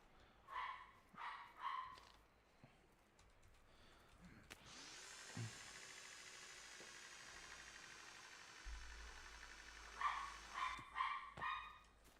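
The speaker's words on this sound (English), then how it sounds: "hear my dog barking?" A dog barks in short bursts, faint and distant, at an outdoor build site, with a loud power-tool whine running for several seconds in the middle before more barking resumes.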